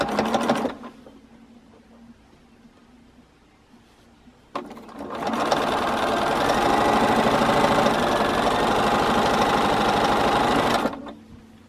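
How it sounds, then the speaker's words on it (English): A sewing machine stitches quilt pieces a quarter inch to the end: brief whir at the start, a pause with faint handling, then a loud, steady close motor hum running for about six seconds before stopping. "And then I want to sew this all the way down 1/4 inch to the end."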